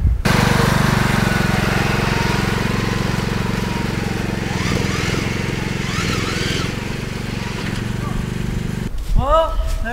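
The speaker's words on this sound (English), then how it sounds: "A racing lawnmower going muddy." A racing lawn mower's small engine drones loudly and steadily, revving unevenly as it churns through mud, then cuts out near the end with brief squeaky sounds.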